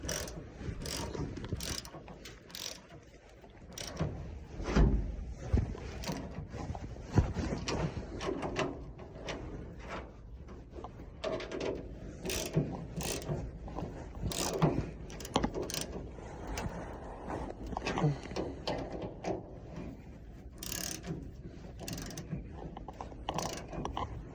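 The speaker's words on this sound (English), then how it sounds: "Now we can go ahead and tighten up this one" A ratchet wrench tightens bolts on a combine harvester rotor, producing repeated bursts of rapid metallic clicking and clunks, with short pauses between strokes. It is moderately quiet and close, with no talk.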